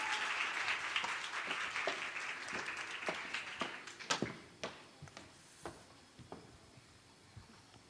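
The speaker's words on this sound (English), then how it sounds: "round of applause" Applause from an audience at a business pitch competition winners' ceremony starts dense and loud, then thins into scattered individual claps that fade out.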